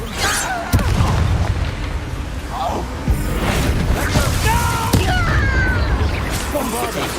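Bombarda spell blasts in the game Hogwarts Legacy, with several booming explosions and crashes bursting amid continuous battle noise and shouted voices.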